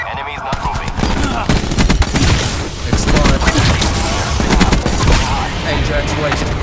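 Sustained rapid gunfire roars from an aircraft gun run in Call of Duty: Black Ops 4, a loud, dense, continuous burst close up with radio chatter underneath.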